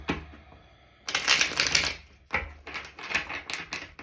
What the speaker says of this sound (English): And now the cards don't want to shuffle.